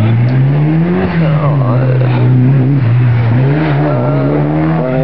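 A small, angry-sounding car engine revs hard and steadily at a race circuit, its loud, buzzy drone wavering in pitch, with a voice talking over it.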